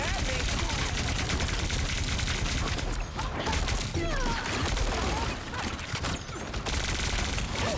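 Dense, continuous gunfire and blasts in the video game Marvel Rivals, a loud unbroken barrage of shots with crashes and effects layered together, with a voice talking over it in places.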